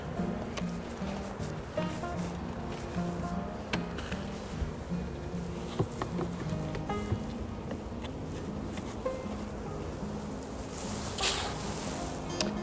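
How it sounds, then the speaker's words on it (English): A dense, steady hum of many honey bees buzzing close by around an apiary hive, continuous and droning, with occasional light knocks and rustles. "this hive still has a lot of bees in it"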